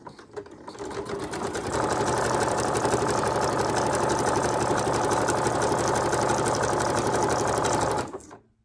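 Domestic sewing machine running a zigzag stitch on a junk journal cover, a steady close mechanical whir with fast rhythmic needle chatter that holds for about seven seconds before stopping.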